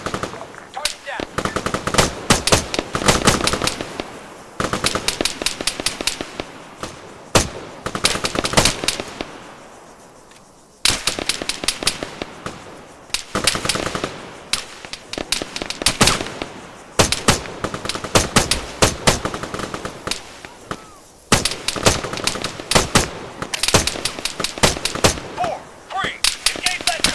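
Sustained automatic rifle and machine-gun fire rattles through an Arma 3 battle, long dense bursts broken by brief pauses, very loud and close, with shouted voices now and then.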